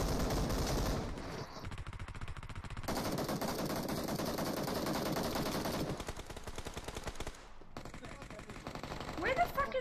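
Video game gunfire in dense, rapid bursts of automatic fire, loud and close, with shifting mixes of shots throughout and voices talking over it.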